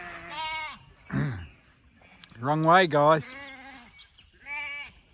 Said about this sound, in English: Cheeky lambs, they're going through a hole in the fence.